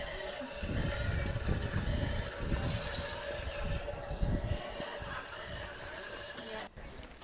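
Drinking water trickles and splashes from a fountain in a damp spot on a village walking trail, a steady close stream with a few short bursts of louder splashing.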